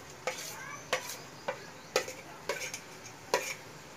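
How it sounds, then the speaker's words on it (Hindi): Ginger and garlic paste in a hot pan gives a faint background sizzle, punctuated by about seven crisp, evenly spaced stirring taps and scrapes of a spoon against metal. "ये जनाब, इसमें ये डाल देंगे अदरक और लहसुन का पेस्ट"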